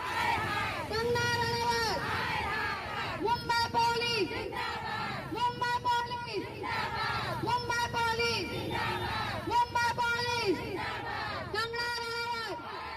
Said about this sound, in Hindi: कंगना रनौत मुर्दाबाद के नारे लगाए